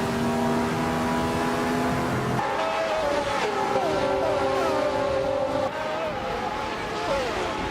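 Race cars, among them a Lotus 72C, roar through a racing video game with steady, loud engine drone and rising and falling revs as gears shift, while a voice talks over the whole run.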